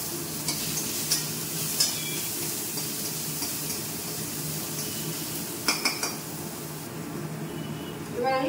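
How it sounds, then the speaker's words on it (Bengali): Crushed garlic sizzles in hot oil in a home kitchen pan with a steady, loud hiss, broken by a few sharp clinks of a stirring utensil. "আমি এবার একটু রসুন থেতো করা আছে দিয়ে দিচ্ছি"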